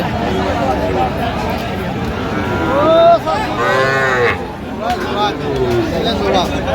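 Cattle, including Sahiwal bull calves, low repeatedly with drawn-out moos amid the murmur of a busy livestock market crowd, the loudest call rising near the middle.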